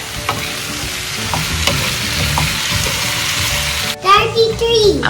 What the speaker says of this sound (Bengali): একটু ঢেকে ঢেকে আর কি ভাজা হচ্ছে